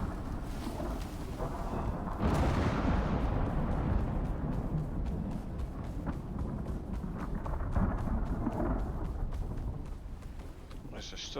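Thunder during a lightning storm in the survival game Icarus: a heavy crack around the start swells into a long, loud rolling rumble, followed by further low booms and a steady stormy roar underneath.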